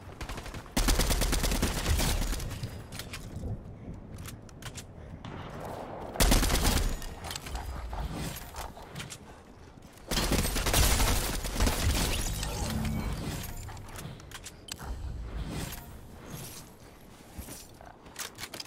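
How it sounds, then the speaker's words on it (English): Rapid bursts of gunfire from sniping in the Fortnite video game, loud and dense, with several sharp clusters of shots repeating over a busy game soundscape and no talk. "Somebody sniping on top of the hill."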